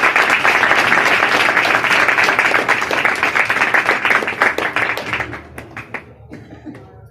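A church congregation at a Sunday service claps loudly and steadily, the dense applause thinning into scattered claps before fading out.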